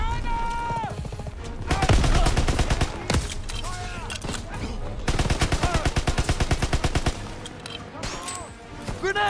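Rifle fire in Call of Duty WW2 during a Normandy campaign battle: loud rapid bursts of gunshots and machine-gun rattle in dense volleys, with brief lulls between, and a voice talking over the shooting.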